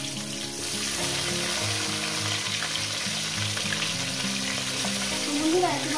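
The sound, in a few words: fish heads frying in oil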